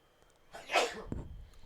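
A single sharp sneeze from someone near the microphone at a high school baseball game, brief and loud against a quiet background.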